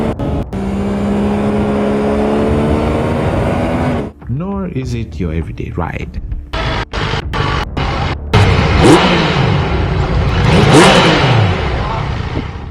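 A Yamaha MT-09 crossplane motorcycle engine revs up and down in sharp bursts, rising and falling pitch sweeps, after someone speaks briefly over a steady idle.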